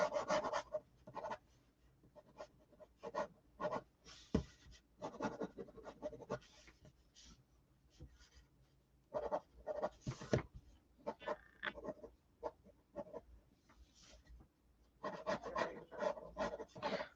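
Pencil scratching across paper while sketching a swamp creature, quiet bursts of strokes and rubbing in uneven clusters separated by short pauses, close and soft.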